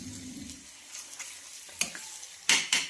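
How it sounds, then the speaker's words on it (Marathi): Egg and spinach bhurji frying in a pan as a spatula stirs it, a soft steady sizzle with scattered scraping clicks and two louder scrapes near the end, no voices. "आता याला छान असं फिरून घ्यायचं आहे"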